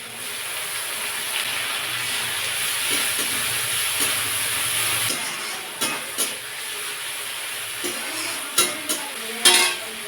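Ginger garlic paste frying and being stirred into melted tomatoes in a pan, a steady loud sizzle with scraping stir strokes and a few sharper clinks toward the end, no voices.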